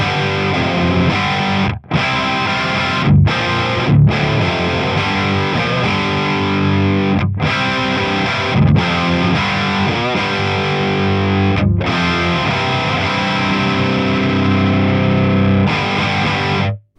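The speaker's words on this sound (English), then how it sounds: "So let's just play a riff." Distorted electric guitar riff played through an amp with a moderate noise gate, loud and close, with chugging rhythmic phrasing and abrupt silences between phrases where the gate cuts the hum and buzz.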